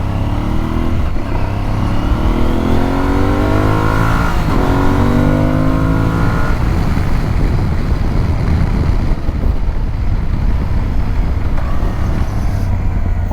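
An Aprilia Tuareg 660 midsize trail motorcycle accelerates hard through several rising revs and gear shifts, then settles into steady road and wind roar, heard close from the rider's position with no talking.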